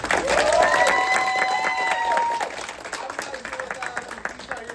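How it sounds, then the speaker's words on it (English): A theatre audience applauds for a stage crew member at a Klingon-language Hamlet performance, with dense, loud clapping and some cheering at first, then easing off. A voice speaks over the applause. "Give him a big round of applause."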